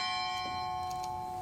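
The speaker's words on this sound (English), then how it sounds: "Buck's great-grandchildren rang the bell" A memorial bell on the Lake Superior shore rings with a clear, sustained tone that slowly fades, and fainter strikes follow. The sound carries through a gray, blustery day with no voices.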